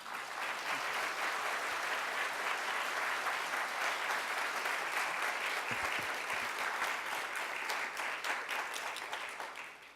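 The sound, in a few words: audience applause welcoming a pastor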